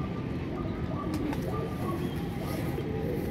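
Pigeons coo softly in a low, rounded murmur over steady background hum, with a few brief higher chirps; the birds sound fairly close and keep calling throughout, with no talk over them.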